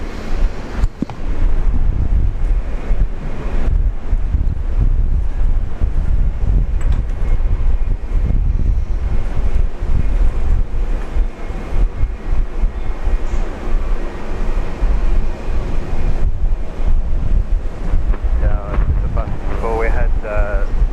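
Steady wind buffets a microphone at Brisbane International Airport, a loud, continuous low rumble that barely lets up, with a faint voice briefly surfacing near the end.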